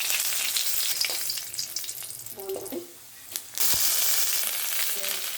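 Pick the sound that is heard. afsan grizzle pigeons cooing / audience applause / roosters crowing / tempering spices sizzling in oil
tempering spices sizzling in oil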